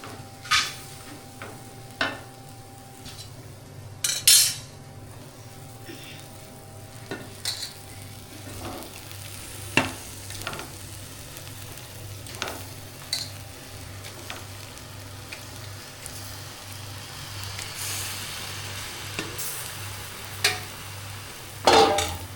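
Boneless chicken with turmeric fries in a pan for a spicy chicken fry, a steady close sizzle broken by regular scraping knocks of a spoon stirring against the pan.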